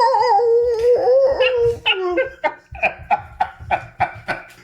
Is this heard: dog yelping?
yes